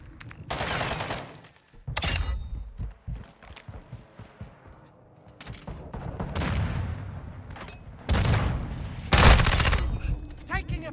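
Gunfire in a military video game, bursts of automatic fire and heavier booms coming in loud clusters separated by quieter gaps, with voices speaking between the volleys.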